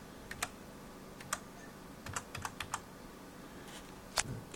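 Someone types a username and password on a computer keyboard, producing sparse, irregular key clicks in short bursts over a quiet room background, close and fairly soft.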